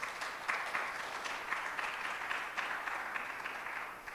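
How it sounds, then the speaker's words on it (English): An audience at a World Architecture Day event in Ghana applauds, dense steady clapping across the room that carries on throughout with no talk over it. "we want to applaud our Ghanaian architects for their support"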